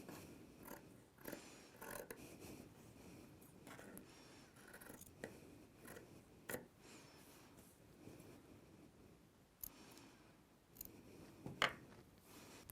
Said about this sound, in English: Cut out your facing pieces too.